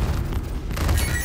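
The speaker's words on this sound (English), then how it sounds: "big explosion." A big explosion during a space dogfight in the Squadron 42 video game, a dense, sustained low rumbling boom lasting about a second, loud and steady with a brighter crackle toward the end.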